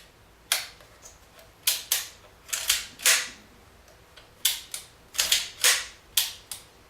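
Vilia film camera advance lever and shutter, a series of sharp mechanical clicks and ratcheting snaps in irregular bursts, close and crisp against quiet.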